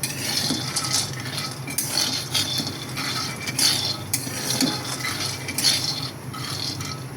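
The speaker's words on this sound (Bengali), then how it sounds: "চীনা বাদাম ভেজে নিচ্ছি, তারপর এগুলোকে ঠান্ডা করে বয়ামে ভেজে রাখবো।" Peanuts roasting in a pan, giving a steady dry rattle and scrape of stirring with faint metallic clinks, close and continuous with no talking.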